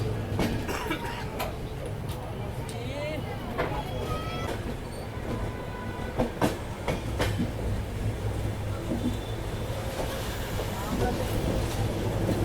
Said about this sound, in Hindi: ये है कामाख्या आनंद विहार एक्सप्रेस।